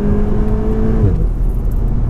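A 2018 Volkswagen Golf R in race mode, heard from inside the car, gives a steady, muffled engine drone with a brief pitch change partway through, low and constant throughout.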